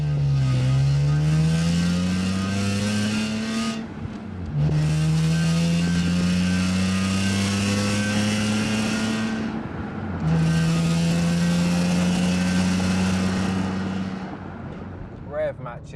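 A 350 bhp BMW E46 M3 CSL replica's engine revs up through the gears with rev-matched downshifts, a loud rising drone that climbs, drops sharply and climbs again in three pulls, heard from inside the car.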